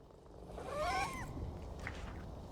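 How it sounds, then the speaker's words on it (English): A cat in PowerWash Simulator 2 gives a clear rising, wavering meow over a low game background, followed by a fainter second call. "I heard the cat."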